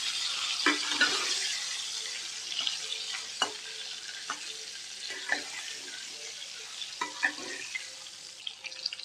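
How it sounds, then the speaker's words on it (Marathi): Stuffed green chillies frying in oil in a pan, a continuous close hiss of sizzling with repeated soft scrapes and taps of a spatula as they are stirred. "लगेच ह्या भरलेल्या मिरच्या घालून घ्यायच्या. म्हणजे हळद जळत नाही. मिरच्या चांगल्या परतून घ्यायच्या."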